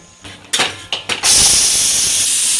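A sharp, steady hiss of steam rushes out of a pressure cooker and keeps going after a few brief bursts, loud and close.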